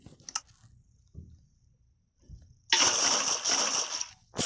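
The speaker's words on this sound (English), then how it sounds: "so let's put the water in. Putting water in." Placing water in the Minecraft video game gives a short burst of splashing, sloshing water, fairly loud for about a second and a half after quiet clicks and soft thumps.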